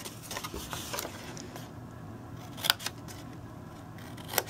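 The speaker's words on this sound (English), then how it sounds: "I go ahead and cut on the 2 ends that I scored" Scissors snip through scored card stock in a few crisp, close cuts, with quiet pauses and handling noise between them.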